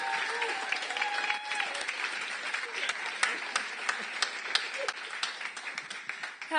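A crowd at a startup accelerator demo day claps for a founder walking to the stage, with distinct individual claps over a background of music that carries on throughout.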